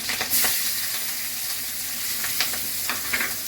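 Panch phoron spice mix and green chili frying in hot oil, a dense steady sizzle with sharp spattering crackles and pops throughout, no voices.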